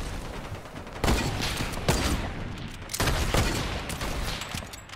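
Gunfire in Fortnite: bursts of shots crack out in a dense, continuous volley, with sharp loud reports near the one- and three-second marks over a steady background of distant firing.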